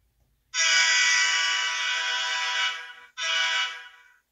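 A model train horn from an ESU LokSound 5 Micro decoder sounds a loud, close, sustained chord of about two seconds, then a short gap and a second briefer blast that fades out.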